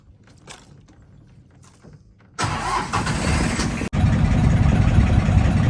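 A car engine cranks and catches after a stretch of near silence with faint voices, then runs loud and steady at idle close by, with a brief dropout partway through.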